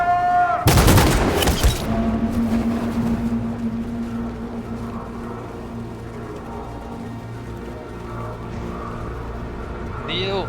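A sharp, loud burst of rapid gunfire erupts near the start of a Detroit: Become Human battle scene, then gives way to a sustained low mechanical hum and rumble.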